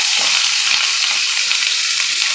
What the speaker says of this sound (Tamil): இதில் ஒரு 4 பெரிய வெங்காயத்தை இந்த மாதிரி ஸ்லைஸ் பண்ணி வச்சுருக்கேன். அதை உள்ளே சேர்த்துக்க போகிறேன்.